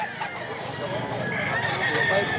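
A rooster at a poultry seller's in Mantalungon, Cebu crows and clucks in a brief, fairly close burst, with voices talking underneath and other fowl adding to the steady background.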